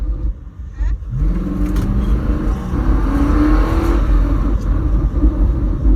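A Cadillac engine revving up close, its pitch climbing then holding as it roars steadily, loud and continuous.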